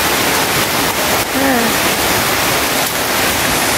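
Heavy monsoon downpour roaring in a loud, steady wash of noise, with a brief spoken word cutting in partway through over the constant rush.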